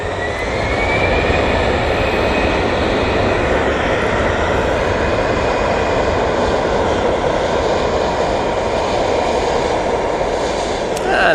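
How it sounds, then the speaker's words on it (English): A TUI Boeing 787-9 Dreamliner arrives at Manchester Airport, its jet engines a steady, loud rumble and roar that holds level throughout. "arrival is the TUI coming in from Punta Cana. 2 in. Using the 787-9 Dreamliner."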